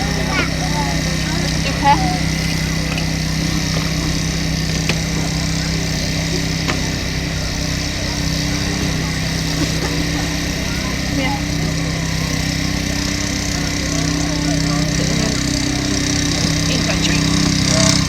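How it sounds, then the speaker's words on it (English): Saws and hydraulic cutting equipment working on a car at a fire and rescue road-collision demonstration give a loud, constant engine-like drone throughout, with people talking over it. "if needs must, we're starting to use the saws and the hydraulic cutting equipment. It is very noisy."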